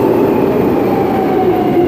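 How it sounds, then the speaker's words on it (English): A train rolling through a station, a steady loud rumble with a faint metallic ring from the wheels, no voices over it. "Some train's coming."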